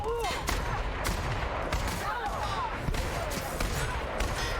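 Rapid gunfire from shooting in The Outer Worlds, loud sharp bursts of shots with ricochet-like whines and clattering impacts over steady game ambience.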